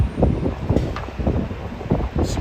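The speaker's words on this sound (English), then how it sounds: "on this windy night in Manhattan" Gusty wind on a city night in Midtown Manhattan buffets the microphone in a low, continuous rumble with uneven swells and faint rustling, loud and close, with no clear voices.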